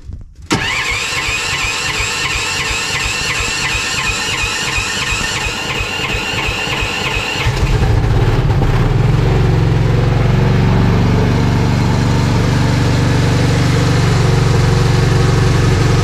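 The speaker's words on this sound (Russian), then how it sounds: "Ну что, надо пробовать заводить, точнее запускать, и попрем." A new Karakat all-terrain vehicle engine cranks and fires up in minus 12 cold, with a whirring, squealing starter run before the motor catches around halfway and settles into a loud, steady low rumble alone.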